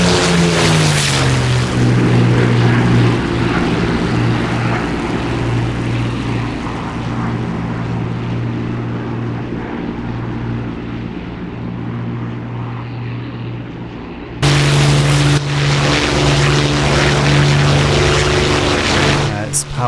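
A propeller warbird in the DCS flight simulator drones past in a loud, steady engine roar that sags in pitch as it passes, then swells again abruptly near the end, with someone speaking over it.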